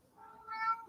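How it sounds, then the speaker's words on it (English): A hungry house cat gives one drawn-out meow that swells and rises in pitch, close by and moderately loud in a quiet room. "My cat is going crazy. Is it dinner time, Bissette?"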